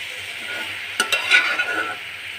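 Fish innards frying in a pan while being stirred, a soft sizzle under a few quick scraping spoon strokes against the pan near the middle, close-up and without voices.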